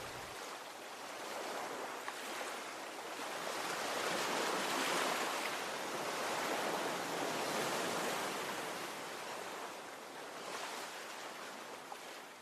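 Calm ocean waves wash onto a beach shore at night, a steady broadband surf rush that gently swells and recedes across the span, moderately distant, with no voices.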